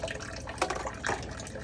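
Water runs briefly while an emesis basin is rinsed out during denture care, with a short splashing burst near the middle and a second softer gush shortly after, fairly close and moderately quiet.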